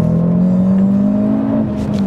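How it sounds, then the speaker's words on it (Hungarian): A Cupra Formentor VZ5 with its 390-horsepower five-cylinder turbo engine holds a loud, steady droning note with the exhaust flaps open, growling close up and briefly shifting toward the end. "Motorhang!"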